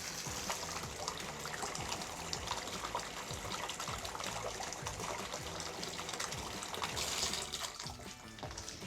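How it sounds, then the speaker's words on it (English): A Delta T13/14 series faucet runs steadily for several seconds, a soft constant rush of water splashing into a basin, heard alone and fairly quiet at close range. "we're gonna take our thermometer and run it under the water"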